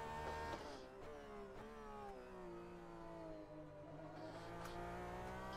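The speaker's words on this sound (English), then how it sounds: "Hold on, let me turn down my engine noise." A Porsche 911 RSR race car's engine plays in a sim racing game at a Sebring 12-hour test, a faint, steady, droning tone whose pitch sags and then holds as the car revs and lifts, with no voices.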